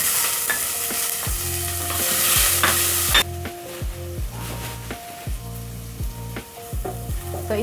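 Onions fry with cumin seeds in a pot under a loud sizzle. A spoon strikes and scrapes the pot repeatedly, and the hiss drops off sharply partway through while the stirring clatter continues.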